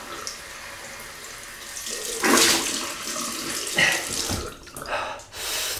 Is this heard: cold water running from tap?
yes